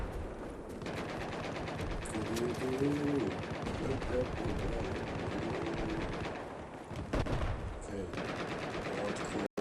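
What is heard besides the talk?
nail gun firing in video game Battlefield 4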